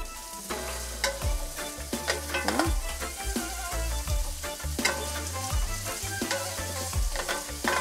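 Flaked saltfish sautéing in a pan for Jamaican ackee and saltfish, with a continuous close sizzle broken by repeated scraping stirs and clicks of a utensil against the pan.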